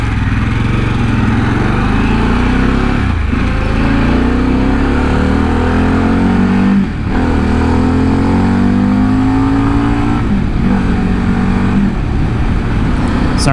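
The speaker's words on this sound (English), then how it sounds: "it wouldn't be much of a motorcycle video if I didn't accelerate and let you at least hear the motor" A motorcycle engine revs and accelerates up close, pitch climbing in repeated surges with brief dips between gear shifts, loud and continuous.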